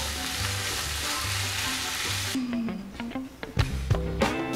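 Fresh spinach leaves wilt in a hot pan seasoned with salt and black pepper, giving a steady close sizzle and crackle with no talk, then a few louder clinks and stirring scrapes near the end.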